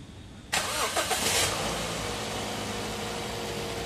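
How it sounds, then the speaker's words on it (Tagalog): A Toyota Vios engine cranks and catches about half a second in after an oil change, engine flush and spark plug replacement, then settles into a steady close idle with no voices. "Ibalik ko na itong engine cap tapos start ko itong makina."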